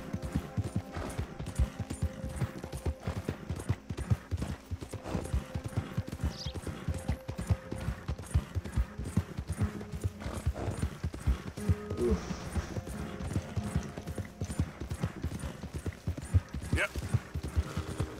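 Horse hooves pound in a steady, rapid clip-clop gallop while riding in Red Dead Redemption 2, running continuously with occasional game sounds like distant shots layered in.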